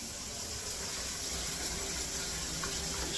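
Shower water runs steadily in a bathroom, a dense continuous hiss and splash with no pauses and no voices.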